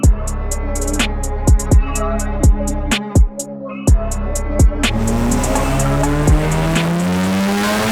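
A naturally aspirated 490-horsepower Porsche GT3 RS running on 91 octane roars loudly while being driven, with a string of sharp cracks and pops over the engine note, which rises steadily toward the end.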